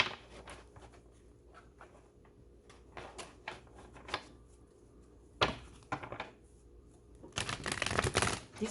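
Tarot cards shuffled by hand in a dry, rapid riffle of papery slaps and flicks, uneven in rhythm and growing louder and denser toward the end, with no talking.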